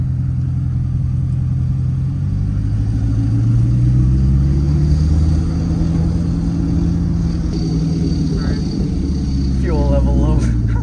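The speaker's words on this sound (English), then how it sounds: "let's go ahead and start the first test drive on this thing" Rebuilt Corvette engine rumbling steadily at low revs on its first test drive, with a slight rise in pitch partway through. Heard from inside the car, with brief talk near the end.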